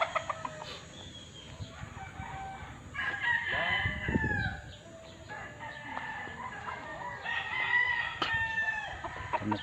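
Roosters at a chicken farm crow loudly and repeatedly, several calls overlapping, with hens clucking around them at close range.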